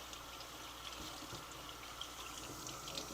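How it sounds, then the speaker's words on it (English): Tap water runs steadily from a kitchen faucet into a pot in a sink, a soft continuous gush with no pauses and no voices. "immediately run it under the pipe and get some water in there too"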